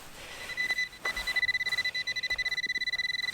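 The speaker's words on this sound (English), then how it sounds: "I did get a beep." Metal detector sounding on a buried target during coin hunting in a park: a steady electronic tone that becomes a rapid, even series of close, clear beeps, with no talking.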